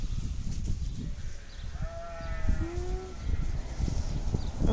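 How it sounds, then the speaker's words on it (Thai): A sheep at a farm gives a couple of wavering bleats, moderately distant, over continuous outdoor noise and rumbling background. "มาชมแกะแค่นี้ค่ะ"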